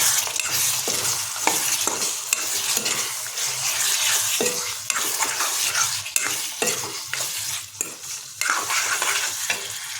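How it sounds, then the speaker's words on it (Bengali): Chicken breast pieces stir-frying in a wok on a low flame, a continuous sizzle broken by repeated scraping strokes of a spatula against the pan, close and fairly loud, with no talking. "এখন আমরা এটাকে মিনিট 3 ধরে লো ফ্লেমে কষিয়ে নেব।"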